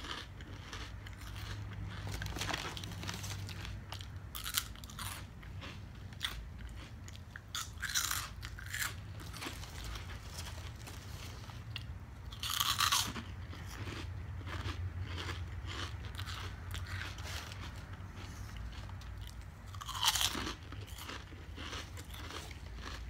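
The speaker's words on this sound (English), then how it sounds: "Now let's enjoy some cinnamon twists." Crunchy Taco Bell cinnamon twists being bitten and chewed close up, repeated crisp crunches with a few sharper bites standing out over a steady low hum.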